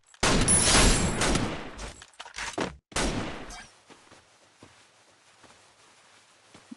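Gunfire in the mobile shooter Free Fire during a ranked clash-squad match: loud, dense bursts of rapid shots, one long volley followed by two shorter ones, then a faint background with scattered small clicks.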